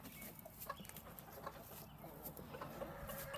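Chickens cluck softly at dusk amid a steady outdoor background, several short scattered clucks at moderate distance with no talking.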